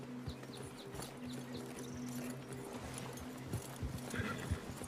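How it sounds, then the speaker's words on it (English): Horses in Red Dead Redemption 2 clip-clop at a steady trot-to-gallop rhythm close by, with an occasional whinny, faint birds and a low hum of ambience underneath. "Get your horses ready."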